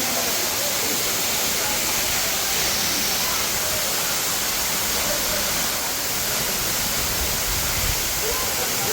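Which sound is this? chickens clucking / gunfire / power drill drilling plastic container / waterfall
waterfall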